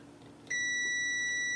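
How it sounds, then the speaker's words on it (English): A multimeter's continuity tester, probing a shorted capacitor on a game console circuit board, gives a sudden steady electronic beep that begins partway through and holds unbroken to the end, loud and close over quiet room tone. "This cap isn't meant to beep on both sides."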